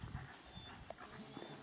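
A dog pants faintly and rapidly at close range during an outdoor walk with dogs, a soft continuous breathing rhythm over light background noise.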